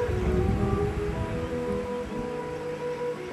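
Sea surf on a beach, a continuous broad wash of breaking waves with a soft rushing hiss, steady and moderately loud, with no voices.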